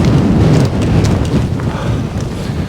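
Strong wind on Blencathra mountain roars steadily into the microphone, a dense low buffeting rumble with gusty surges across the whole stretch and no voices.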